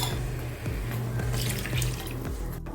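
Water pours into a pan of potato masala for poori, a brief splashing trickle up close, lasting a few seconds with no voices.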